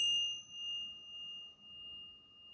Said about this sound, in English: So I will be using these Tibetan bells